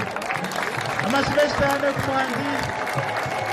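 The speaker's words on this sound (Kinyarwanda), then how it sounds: "arakoze nagongera mu amashyi menshi cyane" A crowd applauds steadily throughout at a Liberation Day event while a voice speaks over the clapping.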